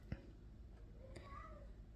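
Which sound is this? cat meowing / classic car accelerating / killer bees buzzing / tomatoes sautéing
cat meowing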